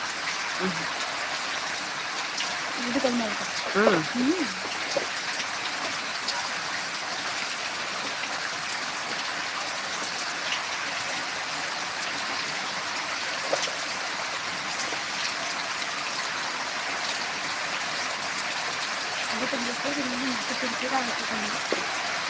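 A sudden downpour in a Dindigul district village keeps up a steady watery rush, like runoff streaming, while a few brief voice-like sounds rise near the start and again toward the end.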